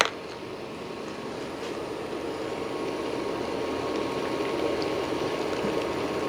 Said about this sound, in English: When it starts to simmer, we can start adding our